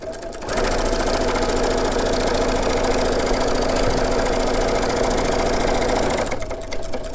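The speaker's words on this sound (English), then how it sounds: "I'm gonna sew down to that mark" Sewing machine stitching a fabric microwavable popcorn bag, a steady continuous motor whir with rapid needle chatter running for about six seconds, close and loud, starting and stopping abruptly.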